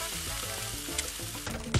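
Fried chicken sizzles in the pan in the cooking video game Cook, Serve, Delicious, a steady frying crackle with a couple of sharper pops near the end, heard over faint background music.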